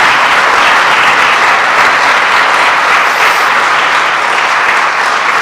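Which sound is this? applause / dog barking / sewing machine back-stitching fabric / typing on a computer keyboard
applause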